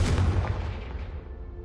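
A Confringo explosive spell blast in Hogwarts Legacy, one loud booming burst with a deep rumble that fades out over under two seconds.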